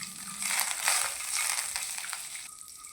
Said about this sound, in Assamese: এতিয়া কাজু আৰু এই ইলাচি তেজপাতখিনি অকণমান সময়ৰ কাৰণে ল' ফ্লেমতে ভাজি ল'ম।